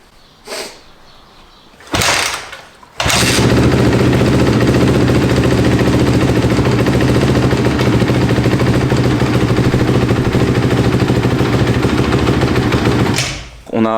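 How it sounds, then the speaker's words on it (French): A Honda CRF250 motorcycle engine kicks into life after a couple of brief attempts, then runs at a steady, loud, close idle for about ten seconds before cutting out, with no talking. "On a remonté la moto, elle a démarré, comme vous avez pu le voir."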